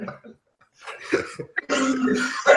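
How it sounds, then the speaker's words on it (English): A person gives a couple of short coughs and throat-clearing bursts, close and fairly loud, between bits of breathing and voice. "I'm coughing."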